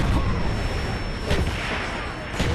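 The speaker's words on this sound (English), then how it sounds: "Enemy mortar team spotted." Enemy mortar fire in Call of Duty: Black Ops, heard as dull distant booms at regular intervals over a dense, constant battlefield rumble.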